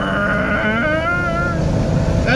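A voice imitates a car engine, a wavering, rising and falling drone that stretches into a strained, bleating whine like a dying cat, loud and close throughout.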